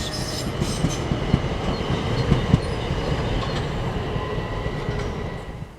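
Electric multiple unit 376036 rolls slowly through St John's station at around 20 mph, a steady rumble with clattering wheels and brief clicks over rail joints, heard fairly close and fading toward the end.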